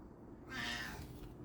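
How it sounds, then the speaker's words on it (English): A single soft, drawn-out cat meow, faint and somewhat distant over a low background hum. "That's my cat making noise."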